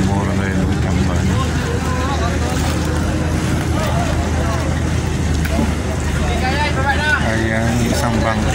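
A steady low fishing boat engine drone runs throughout, with people talking loudly over it and a constant outdoor rumble.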